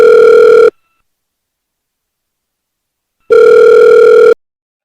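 Steady electronic telephone tone during a phone call, sounding in two loud bursts: a short one at the start, then a longer one after a few seconds of silence.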